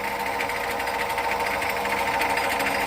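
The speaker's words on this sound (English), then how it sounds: "this guides the drill, the next drill in to the center, and gets the hole started on your face without too much wobble" A lathe turns steadily while a center drill bores a starter hole in the workpiece face, giving a continuous close whirring, grinding tone with a faint rhythmic flutter and no pauses.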